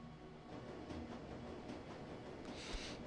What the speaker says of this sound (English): The train ramps up speed